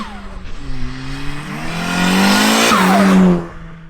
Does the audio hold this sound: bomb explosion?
no